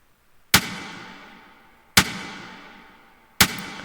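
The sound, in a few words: drum machine snare with added reverb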